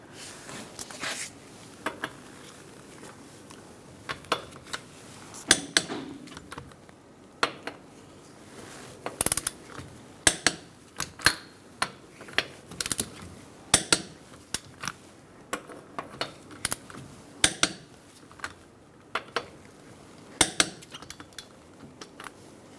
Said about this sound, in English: Using a 21mm socket, we're going to torque our lug nuts to 76 foot-pounds